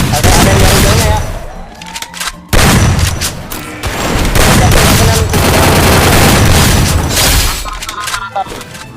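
Rapid bursts of automatic gunfire and heavy booms from a shooting video game fill the mix loudly and almost without pause, with player voices talking over the action.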